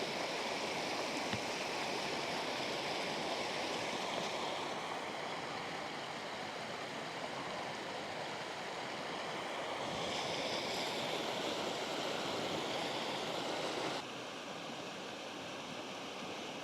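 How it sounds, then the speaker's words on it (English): The Jackson River near Green Bank, West Virginia, flows in a steady, close rushing wash of water, broad and continuous throughout with no voices, dropping slightly in level near the end. "That water is clear. It's beautiful. I believe this is the Jackson River."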